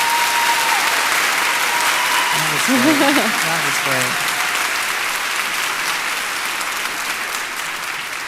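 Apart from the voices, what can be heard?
audience applause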